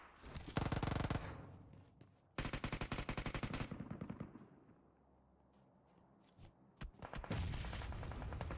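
Rapid bursts of automatic gunfire in the battle royale game PUBG Mobile during a competitive match, loud close volleys separated by quieter gaps, with more distant shots scattered between and a final sustained burst.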